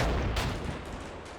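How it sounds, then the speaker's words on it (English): Gunfire in the combat game Combat Mission Shock Force 2, a dense rolling crackle of distant shots with a sharper burst near the start, continuous and muffled through the whole stretch. "we're getting some suppressive fire on this building"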